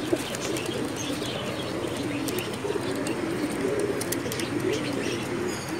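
A pair of pigeons coos softly and continuously, low repeated calls close by with faint chirps and small rustles over a steady background.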